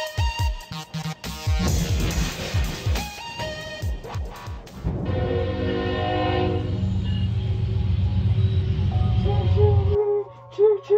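A train rumbles past with a loud, sustained horn blast, the rolling clatter of the cars giving way to a steady blaring tone that cuts off abruptly near the end.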